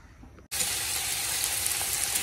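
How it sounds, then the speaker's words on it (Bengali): Pointed gourd (potol) frying in a kadai gives a dense, steady hiss that bursts in suddenly after a quieter moment and then holds evenly at close range, with no talk. "এদিকে যে পটল ভাজা বসিয়ে দিয়েছি"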